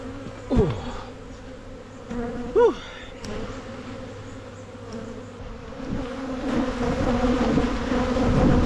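Honey bees swarming inside a hive just opened and disturbed while being packed down for winter, giving a dense, continuous buzz that swells louder toward the end, with a few brief, sharper insect whines near the start.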